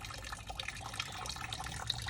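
Water runs steadily through a water basin to rinse out traces of bleach, a continuous splashing flow with small drips and trickles, moderately close and uninterrupted.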